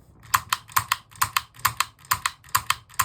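Rapid, evenly spaced sharp plastic clicks, about a dozen in three seconds, close and crisp, from an airsoft Baby Desert Eagle pistol trigger being repeatedly pulled.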